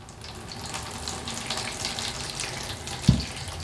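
Water is poured onto chunky, free-draining Delatag soil in a freshly repotted houseplant pot, a steady close splashing trickle that soaks and drains for a few seconds, with a brief knock near the end.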